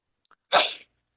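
A single sharp human sneeze during a public planning meeting, one brief loud burst near the microphone in an otherwise quiet room.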